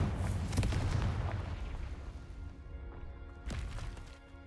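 Booming blasts from the Confringo fire spell in Hogwarts Legacy: a loud burst that fades over a couple of seconds, then a second explosion near the end, with no talking.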